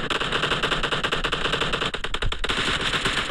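Rapid automatic gunfire from a team deathmatch shooter game, dense and loud, with a sustained burst of shots that briefly thins and then resumes.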